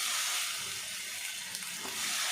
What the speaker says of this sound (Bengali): বেগুনগুলো হালকা করে ভেজে নিই